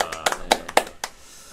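A small studio group gives a brief round of claps for a guest author at the close of a finance broadcast. Six or so distinct, sharp claps sound close and loud, then the sound tapers off.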